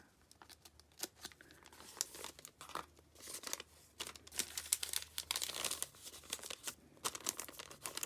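Paper envelope for a junk journal being cut with scissors and torn, giving close, irregular crinkling, snipping and ripping noises in uneven bursts with no voice.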